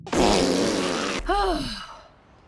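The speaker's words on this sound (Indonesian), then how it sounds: "Tanpa sengaja ia berhasil menyadarkan Megan dengan menggunakan suara bantalan kentut miliknya." A whoopee cushion lets out a loud, long, rasping fart sound that trails into a wavering, bubbly squeak as it fades.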